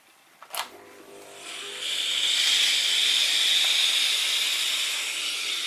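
Steam iron hissing steadily as it presses denim jeans fabric, a brief clack at the start followed by a loud, continuous broadband hiss that swells and holds close to the microphone.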